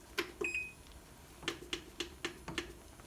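Kitchen timer being set beside a pot of boiling fudge, giving a series of short, sharp electronic beeps in an irregular run, close and fairly clear over faint stovetop background.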